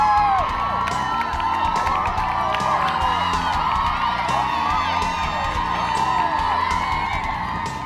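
A large crowd of young women in the Wellesley Scream Tunnel at the Boston Marathon scream and cheer continuously at high pitch, with piercing shrieks and whoops layered over one another at close range.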